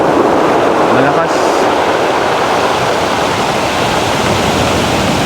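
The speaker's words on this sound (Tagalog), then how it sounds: "malakas yung alon" Strong sea waves break in a loud, continuous roaring wash, dense and close, without pause throughout.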